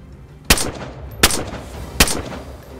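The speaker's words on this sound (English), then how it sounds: "Shotgun." Three sharp, loud shotgun blasts from the game DayZ, evenly spaced about three quarters of a second apart, each with a short rumbling tail over a quiet background.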